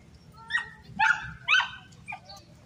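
At a street dog race, a few dogs bark and yip in short bursts, loud and fairly close, with a low background rumble.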